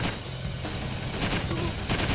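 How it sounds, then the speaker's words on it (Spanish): Gunfire aimed at cars in the video game Driver 3 on PC, rapid bursts of shots over a loud, continuous game soundscape with no speech. "Entonces yo me pongo a caerles a tiros."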